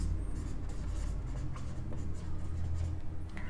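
Pen writing on paper for an accounting problem, continuous close scratchy strokes with a few short pauses, over a low room hum and no talk.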